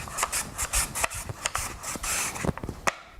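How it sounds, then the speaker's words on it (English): Green papaya being rotated and shredded on a grater for papaya salad, with quick, rhythmic, close-up scraping strokes that repeat in a brisk, uneven pattern. "I'll rotate it and grate it and rotate it and grate it"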